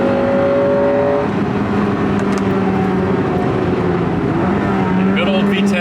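An Acura Integra Type R DC2 with its VTEC engine drones loudly and steadily from inside the cabin while someone talks over it.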